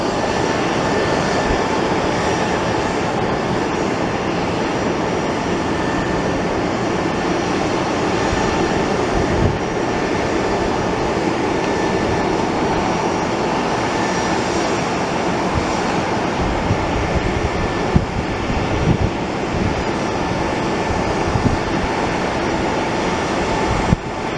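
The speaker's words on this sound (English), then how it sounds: "Yep, this is our FedEx flight. Finally arrived to our airport to grace us with our mail for tomorrow morning." A FedEx cargo airplane arriving at an airport roars with a loud, continuous engine noise that holds steady throughout, with no talk over it.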